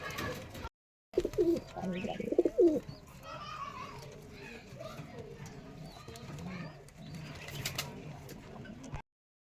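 Rajshahi Giribaz pigeons coo softly nearby, low throaty murmurs over quiet background noise, while someone talks intermittently.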